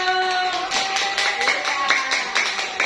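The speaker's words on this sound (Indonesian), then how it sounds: "Tepuk tangan untuk kelompok 1" Classroom students clapping for a group during a teaching practice session, a scattered burst of hand claps mixed with voices and chatter, fairly close and moderately loud.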